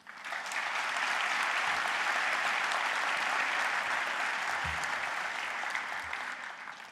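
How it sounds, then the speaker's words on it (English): Graduation ceremony audience in Auckland applauding steadily, a dense wash of clapping from a large crowd that swells in quickly and holds at full strength for several seconds before easing slightly at the end. "could we all please give a round of applause to say thank you"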